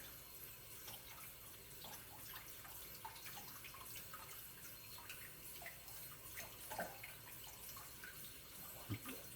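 Boiling water poured from a tea kettle over a scored glass wine bottle trickles and splashes softly, with scattered small drips and gurgles at low volume.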